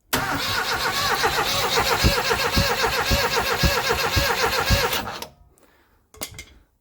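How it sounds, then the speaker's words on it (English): A 1989 Austin Mini engine is cranked over by the starter in a steady, rhythmic churn of repeated pulses for about five seconds, then cuts off, followed by a brief quiet clunk. "Turns over, it hasn't seized, and it's still got spark."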